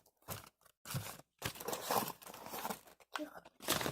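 Packing paper crumpling and rustling as a parcel of skill toys is unpacked, in close, irregular crinkly bursts separated by brief pauses.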